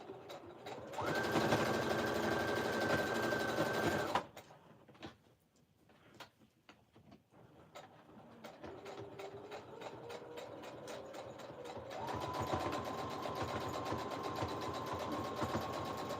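A sewing machine stitches down the frayed edges of a tattered quilt. It runs loud and steady for about three seconds, pauses in near-quiet, then starts again at a slower pace and speeds up into a longer continuous run.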